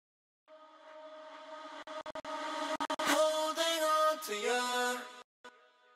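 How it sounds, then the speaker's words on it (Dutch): A solo reversed vocal effect from a dance-track production, the sustained tones swelling in with a smeared, backwards-sounding attack, broken by brief choppy gaps midway and a short tail near the end; no other voices. "Dan hebben we hier nog een reversed vox."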